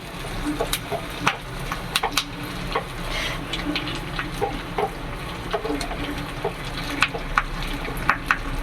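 Onions sauté in hot oil for sambar, giving a steady low sizzle broken by scattered crackles and light stirring clicks, close and fairly quiet, with no talking.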